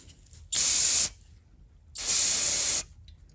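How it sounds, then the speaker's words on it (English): Two loud hissing bursts of carburetor cleaner sprayed onto a Honda HR214 lawn mower, each about half a second to a second long, separated by a short pause, close up with no talk. "A little bit of carb spray ought to do the trick"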